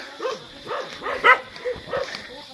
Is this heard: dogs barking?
yes